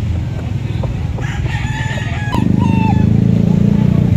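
Roosters crow at a busy gamefowl market in Lipa City, Batangas, one long crow rising clearly over a dense, steady crowd murmur and scattered clucking, with several birds calling nearby.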